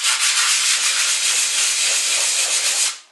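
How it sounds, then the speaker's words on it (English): Hardened filler on damaged car paintwork being sanded by hand with 180 grade sandpaper in circular motions, a continuous close, loud abrasive rasp that stops abruptly at the end. "I'm sanding in a circular motion."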